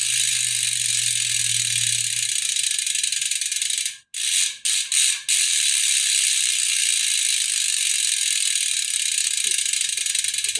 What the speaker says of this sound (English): That's the hub sound.